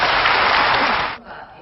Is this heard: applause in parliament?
yes